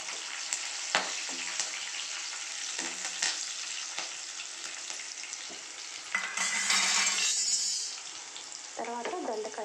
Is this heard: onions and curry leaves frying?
yes